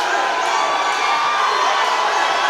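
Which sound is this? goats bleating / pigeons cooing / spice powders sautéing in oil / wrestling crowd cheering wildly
wrestling crowd cheering wildly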